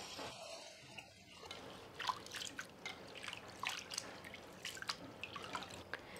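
Lentils are rinsed in water while preparing a mutton khichda, giving faint, irregular splashes, drips and trickles, with no talking.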